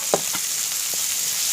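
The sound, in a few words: sautéing onions in pan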